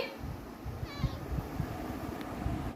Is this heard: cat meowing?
yes